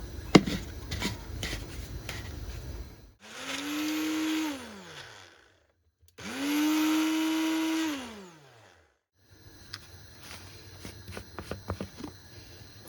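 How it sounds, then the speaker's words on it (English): A Ninja blender blitzes vegetable peelings into a paste in two loud bursts of roughly three and two seconds, each rising to a steady whine and then winding down, with clattering kitchen handling before and after. "I'm just going to put them in the Ninja blender just to blitz them up and make them into a paste"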